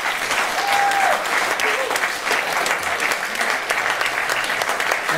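An audience applauds volunteers at a community award event, loud steady clapping close by with a short whistle or cheer early on, continuing evenly throughout.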